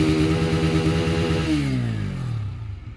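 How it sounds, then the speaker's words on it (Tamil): A TVS Apache RTR 160 2V motorcycle exhaust held at a steady high rev around 5000 rpm, a loud close buzzing drone that drops in pitch as the throttle is released near the end, with no talk. "இப்போ நம்ம வந்து எக்ஸாஸ்ட் நோட் நீங்கள் கேட்டுருங்க. 5000 ஃபுல் ரேவில் வச்சுருக்கோம்."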